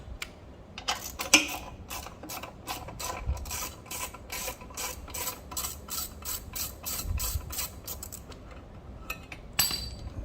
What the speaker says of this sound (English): remove the battery tie-down bar using a 7/16 socket and ratchet